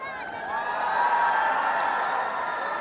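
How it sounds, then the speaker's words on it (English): Large crowd applauding and cheering to welcome a Naga traditional dance troupe at a students' festival in Delhi, a steady, dense wash of clapping and whoops that swells and holds loudly throughout. "we must welcome them with a huge round of applause"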